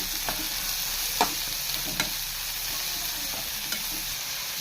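Green bean thoran being stirred in a hot pan, a constant soft sizzle broken by several distinct spatula scrapes and taps at irregular intervals, close and alone.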